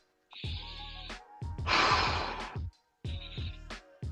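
A person takes several sharp, deep sniffs of a beard product's scent, loud and close, in quick bursts separated by short silences.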